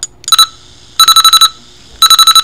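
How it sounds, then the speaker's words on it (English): A PSP alarm clock app's alarm sounds in three loud bursts of rapid, evenly spaced electronic beeps, each burst lasting about half a second with brief pauses between, alone and close. "It's really loud, actually, so just listen. And there's your alarm."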